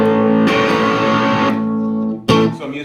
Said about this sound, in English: So I'm using it like a regular distortion